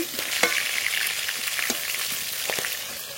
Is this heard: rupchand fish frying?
yes